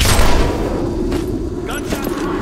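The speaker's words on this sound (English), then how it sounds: "Gunshots. Repeat. Gunshots in my vicinity." Gunfire in the PC game Hitman: Absolution booms out in a heavy, dense burst of loud shots and thuds, with a voice speaking over the noise.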